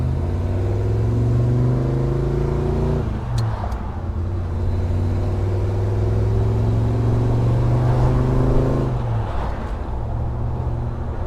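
A 1975 Ford Bronco with its top down driving along, a steady engine drone with gear changes and wind rumble throughout, loud and close, with no talking.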